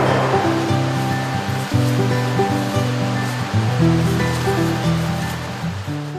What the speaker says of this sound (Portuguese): o som ambiente é esse que você também está escutando, uma cachoeira que fica aqui na propriedade